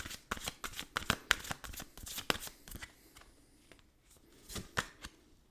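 A deck of playing cards is shuffled by hand, a quick run of crisp riffling snaps and flicks close by, thinning out to a few scattered card slaps toward the end.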